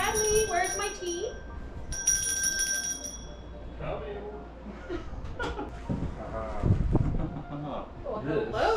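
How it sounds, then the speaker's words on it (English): A hand bell rings out clearly in two bright bursts near the start, its tone hanging briefly, followed by a voice and other people talking and laughing over an indoor room background. "Let's see what happens when you ring that bell."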